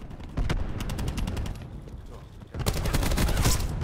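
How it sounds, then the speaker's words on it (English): In Call of Duty Black Ops 4 team deathmatch, a cluster grenade goes off in a rapid string of sharp blasts. They are loud and close, mixed with bursts of gunfire. "Cluster grenade going out."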